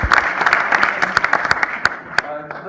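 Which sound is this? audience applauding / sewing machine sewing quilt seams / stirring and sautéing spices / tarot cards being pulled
audience applauding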